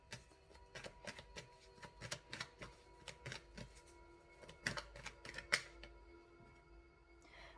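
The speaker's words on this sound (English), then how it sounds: "let's shuffle some more oracle cards to get some more information on your person." Oracle cards being shuffled make a string of crisp, close snapping riffles and flicks in an irregular rhythm, quiet overall with a few sharper clacks near the end.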